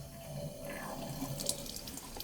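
Water trickles and patters from a leaking bathroom faucet, a faint, steady running sound with small splashy drips.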